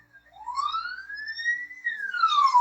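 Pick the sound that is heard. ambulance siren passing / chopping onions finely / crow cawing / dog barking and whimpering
ambulance siren passing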